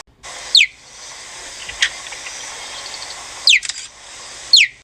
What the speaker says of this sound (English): the cheetah, which I would take seriously if they didn't sound like this.